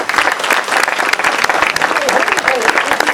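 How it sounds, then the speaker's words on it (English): A crowd at a teddy bear charity presentation claps loudly and continuously, with cheers and voices mixed into the dense applause. "Let's give everybody a big round of applause."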